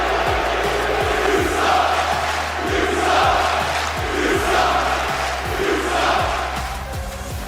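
A large live crowd at an RLCS Rocket League esports event roars and chants continuously, with loud swelling cheers, rhythmic rising shouts and low rumbling hall noise.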